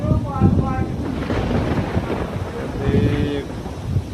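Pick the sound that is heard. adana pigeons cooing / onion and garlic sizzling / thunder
thunder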